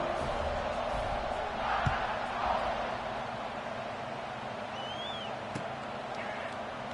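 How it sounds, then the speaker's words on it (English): A stadium crowd in the College Football 26 video game roars as a steady, fairly faint wash of noise around a kickoff, with a brief swell and a short thump. "this crowd now ready to get behind them"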